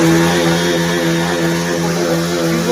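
A Bajaj Pulsar NS 200 motorcycle engine running rough with a misfire, a loud, close, continuous drone that holds steady throughout.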